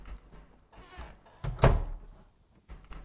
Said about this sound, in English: No, I'm gonna close the door.